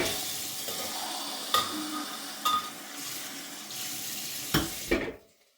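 Water being poured into a pot of pulao during home cooking, a steady running, splashing stream with a few sharp clanks of utensils, fairly close, ending abruptly.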